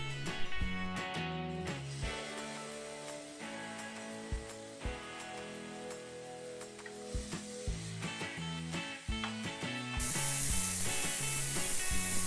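A burger patty sizzles and fries in a nonstick pan, a steady crackle under tonal background music, with the hiss swelling louder near the end and no talking.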